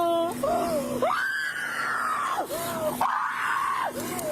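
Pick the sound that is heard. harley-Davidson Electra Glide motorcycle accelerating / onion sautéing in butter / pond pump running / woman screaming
woman screaming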